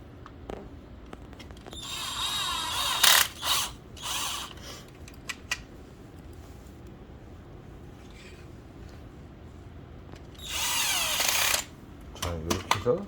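A screwdriver turns a round screw into the back of a Fuji Xerox multifunction copier during a drum replacement, producing two bursts of close ratcheting clicks amid quieter handling sounds.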